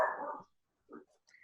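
A dog barks indoors, one short bark following a stretch of speech, then a faint higher yip shortly after.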